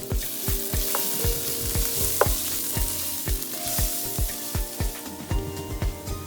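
Ginger garlic paste frying with sautéed onions in a pan, a continuous close sizzle broken by regular scraping strokes of a spoon stirring roughly twice a second, with no voices.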